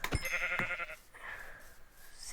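Several sheep bleat in Minecraft, a couple of close, wavering cries in quick succession with no talk over them.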